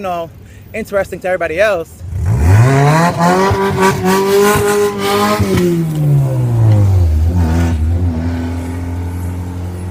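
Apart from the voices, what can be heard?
car engine revving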